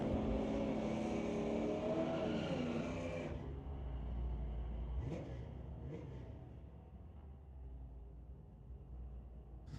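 Drag race launch between a Ford Mustang with a 302 cubic inch V8 and a Volkswagen Golf R with a 2-liter turbo, loud engine roar for three seconds then cutting to a distant fading rumble with brief bursts.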